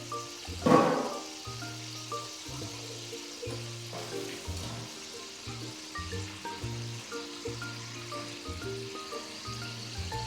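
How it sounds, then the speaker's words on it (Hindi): Water hits a hot pan of potato and egg curry with a brief loud hissing burst, then a softer ongoing sizzle continues beneath steady background music. "चलो अब हम इसमें थोड़ा सा पानी डालेंगे।"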